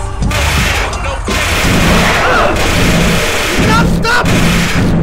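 Dense, booming cannon fire and explosions from the fighting game Mugen roar continuously at high volume, with heavy low rumbles and overlapping blasts throughout.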